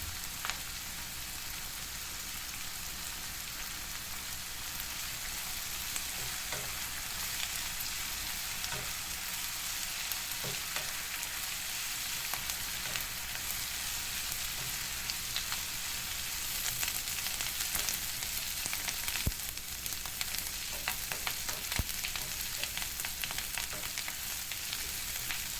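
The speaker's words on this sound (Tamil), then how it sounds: "இந்த சமயத்தில் கருவேப்பிலை இதில் போட்டு அதையும் நம்ம லேசாக வதக்கிக்கலாம்." Onion and curry leaves sauté in a pan while making curry leaf chutney, giving a soft, even sizzle. Faint stirring clicks break in now and then, and no voices are heard.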